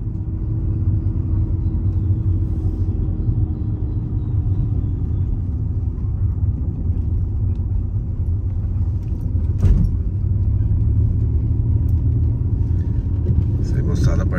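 A car drives along a road with a steady low engine rumble and road noise running throughout, loud and close from inside, with a brief knock partway through.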